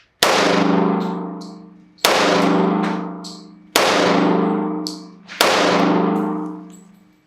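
Four slow, evenly spaced shots from a MAC 1911 MEUSOC .45 ACP pistol at a shooting range, each a loud sharp crack followed by a ringing metallic decay, with no talking between them.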